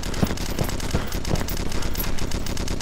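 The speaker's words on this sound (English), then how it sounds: "Someone's shooting something." Gunfire in the Red Crucible Firestorm video game: a handful of evenly spaced shots pop over a dense, steady battle din, somewhat distant and without talk.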